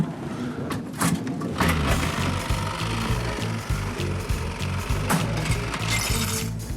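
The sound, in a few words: early slot machine being cranked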